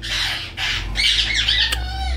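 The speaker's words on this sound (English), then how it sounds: "damn birds" Birds squawk loudly and close by in several harsh, overlapping calls, with a steady low hum running underneath.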